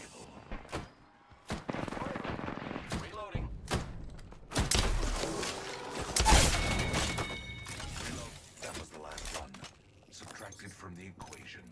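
Video game gunfire rings out in sharp, sporadic bursts and a heavier volley, loud and close, mixed with clattering game effects and occasional voices.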